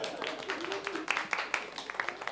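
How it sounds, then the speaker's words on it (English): A small audience at a participant presentation breaks into brief, scattered clapping that swells for a couple of seconds while someone speaks over it. "an applause to the dragonfly"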